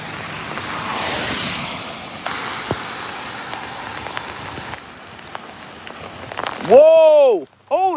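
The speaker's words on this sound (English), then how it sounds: "it is pouring right now" Heavy lake-effect rain pours down in a steady hiss of big drops on a windy morning, loud and close, before a voice breaks in with an excited exclamation at the end.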